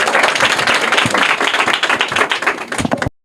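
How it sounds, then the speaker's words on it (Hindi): An audience claps loudly for a correct answer at a quiz held in Bihar, dense continuous applause with sharp individual claps that carries on for about three seconds before cutting off abruptly. "जोरदार तालियां इनके लिए"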